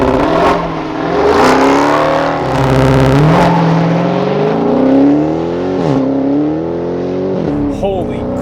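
A 2020 Dodge Charger Hellcat Widebody launching hard on launch control, its supercharged engine roaring up through successive rising gear pulls with brief dips at each shift, loud and close from inside the car, with a voice exclaiming over it.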